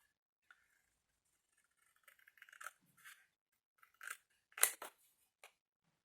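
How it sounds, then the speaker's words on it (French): Scissors snip through paper while cutting out a craft piece, a few quiet, crisp cuts spaced irregularly, the loudest cluster near the end, with no talking. "Celui-là m'inspire bien, donc je vais me le découper."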